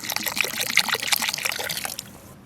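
White vinegar poured into a chili, garlic, ginger, salt and sugar pickling liquid for cauliflower, a steady close splashing pour lasting about two seconds before it cuts off, with no talk.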